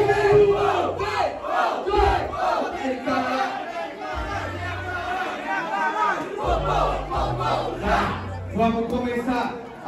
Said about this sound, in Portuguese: E é o grito da plateia que faz a terra tremer.